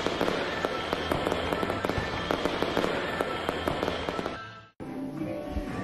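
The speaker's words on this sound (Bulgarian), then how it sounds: "разбира се, фойерверки." New Year fireworks crackle and pop densely and continuously at a loud level, with rapid overlapping bursts before cutting off abruptly.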